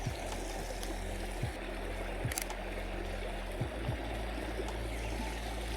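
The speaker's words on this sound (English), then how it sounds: "at least we've got some water action going on here" Stream water flowing steadily outdoors during nature photography, a soft, continuous rushing close by, broken by a few sharp camera shutter clicks and no talking.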